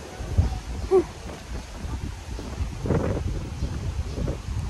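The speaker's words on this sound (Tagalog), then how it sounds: "Ay, ang sarap ng hangin." Gusty wind rumbles and buffets the microphone outdoors, a steady low roar with a few stronger puffs.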